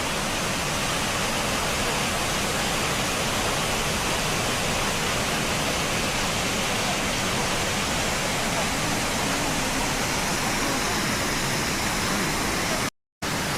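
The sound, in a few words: waterfall in front of an observation deck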